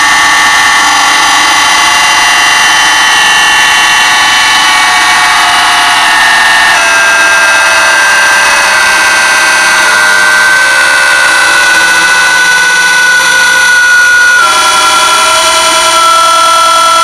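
An electric motor run by an FC300-B3-1.5G/T2 1.5 kW frequency converter gives off a loud, steady high whine. Its pitch shifts and steps down gradually as the speed changes, with no voices.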